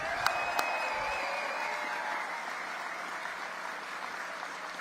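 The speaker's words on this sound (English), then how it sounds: "Let's give them a big round of applause." Crowd at an outdoor Laborfest rally in Milwaukee applauds steadily for the full stretch, a dense, even wash of clapping with a couple of sharp claps or whistles near the start.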